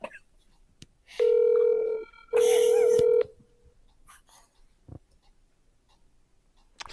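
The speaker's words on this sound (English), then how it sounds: "This must be a recording of a phone call." Touch-tone dialing beeps on a recorded phone call ring out as two loud, sustained electronic tones in quick succession, followed by faint clicks and low background noise.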